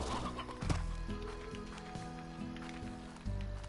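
Hens clucking in the video game Slime Rancher, a series of short repeated clucks over a steady game soundtrack, fairly close and moderately loud.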